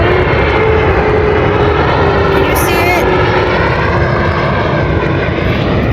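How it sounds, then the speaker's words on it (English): A United Airlines airplane passes overhead, its loud, steady engine roar filling the clip with a slowly shifting tone and a brief whistling sweep partway through. "Is that a plane?"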